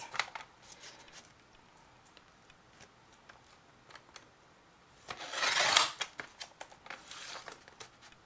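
Washi tape being snipped into strips with scissors: a few light, crisp cuts spaced apart, then a louder rustling burst of handling near the end, close and quiet with no talk.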